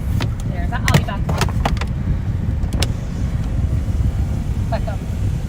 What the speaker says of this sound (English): you can tell I'm in the car